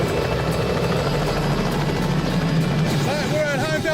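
Helicopter flying over a remote area of the Kimberley, its loud constant rotor and engine roar filling the scene with dense, steady throbbing and no pauses.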